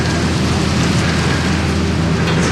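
Strong wind and driving rain at Bondi Beach on a cold, stormy Christmas morning, a loud, continuous roar of gusts and pelting rain with no break and no voices.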